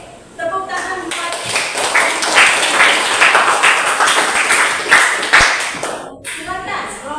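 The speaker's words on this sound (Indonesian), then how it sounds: "tepuk tangan buat" A classroom group claps together for several seconds, a bright, busy patter of hands that swells and then cuts off, with children's voices chattering faintly underneath.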